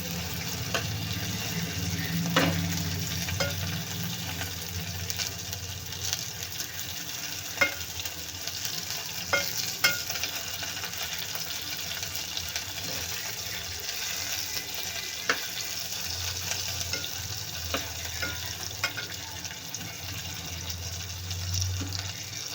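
Tomatoes fry and sizzle in hot oil in a pan, with a steady crackle and occasional sharp clicks from stirring, over a continuous background hiss for the whole stretch, with no voices.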